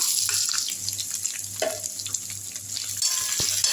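Onion sautéing in a pan with crushed ginger and garlic gives a steady close sizzle, with light stirring scrapes and a low hum underneath.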